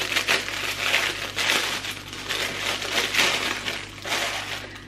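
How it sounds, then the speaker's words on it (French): Paper wrapping crinkled and torn off a small face-and-body brush, a close series of crackling, crumpling bursts in uneven rhythm, with no talk over it. "je vais enlever le papier"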